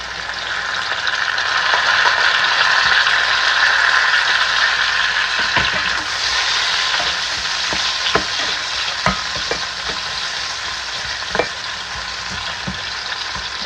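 Onion frying in a pan with dried shrimp paste and chili: a steady, close sizzle with scattered sharp clicks of stirring, continuous and alone without talk.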